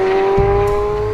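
The naturally aspirated engine of a mid-engine 2023 Corvette Z06 revs loud and close, a steady high-pitched tone with a low rumble swelling in underneath partway through.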